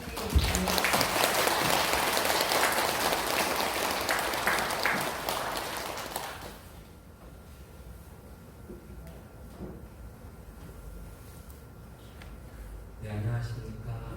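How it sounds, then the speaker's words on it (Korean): Congregation applause welcoming a priest at a church lecture, loud and sustained clapping for about six seconds that then drops away to quiet room sound, with a voice briefly at the end. "시부님 박수로 환영해 주세요."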